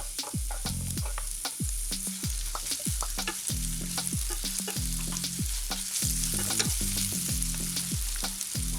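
Onions and garlic fry in a drizzle of oil in a skillet, a steady close sizzle broken by quick, rhythmic spatula taps and scrapes against the pan, with no talking.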